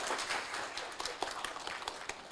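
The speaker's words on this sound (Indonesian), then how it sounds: "tepuk tangan buat kita semua." Audience applause at a medical lecture, a dense wash of clapping from a crowd that runs steadily through the whole stretch with a few sharper claps standing out.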